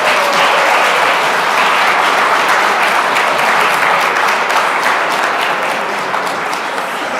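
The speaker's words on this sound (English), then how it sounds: "Give him a round of applause" Loud, sustained applause from a large audience at a New Year welcome ceremony as the Mayor of Chicago takes the stage, a dense steady wash of clapping that holds for the whole stretch and eases slightly near the end.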